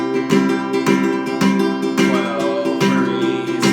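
Flamenco guitar strummed in a bulerías right-hand pattern, with sharp rasgueado strikes accenting a rhythmic cycle of chords, close and steady without talk.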